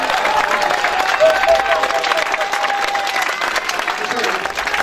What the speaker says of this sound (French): Si on est d'accord, on acclame le Seigneur.